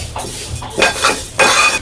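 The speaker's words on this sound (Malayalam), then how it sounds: "അപ്പോൾ അതേ അമ്മച്ചി പരിപ്പ് നല്ല അടിപൊളിയായിട്ട് വറുത്തെടുക്കുന്നുണ്ട്" Lentils roasting in ghee for payasam are stirred in a pan, with a few scraping strokes of the spoon over a light sizzle, close and fairly loud, and nobody speaking.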